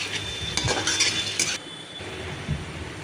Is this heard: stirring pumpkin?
yes